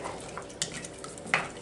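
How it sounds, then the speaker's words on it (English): A spoon stirs butter and sugar in a pot on the stove, giving soft scraping and clinking with a gentle sizzle underneath, close and with no talking. "I'm going to stand here and stir it until the butter melts, until it gets to boiling"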